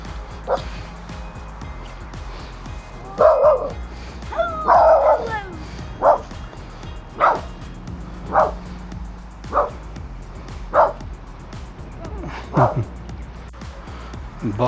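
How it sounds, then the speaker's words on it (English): A terrier barks outdoors by a river, sharp single barks repeating about once a second, loud and close, with faint background noise between them. "I'm barking at some kids the other side of the river."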